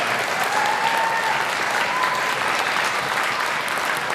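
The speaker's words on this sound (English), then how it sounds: "A big round of applause for all the 5 seniors in this year's orchestra." An audience in a performing arts hall applauds orchestra seniors at a high school concert, with loud, sustained, even clapping filling the room throughout.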